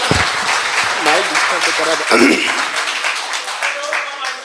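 Clapping from a mushaira audience at an All India poetry gathering, a steady broadband patter running the whole stretch with a voice talking over it near the start and again around the middle.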